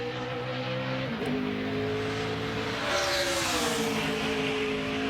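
A NASCAR Cup car on a qualifying lap at Watkins Glen, its engine droning steadily with shifting pitch as it runs through the esses and onto the back straightaway, heard close and loud against a constant broadband roar.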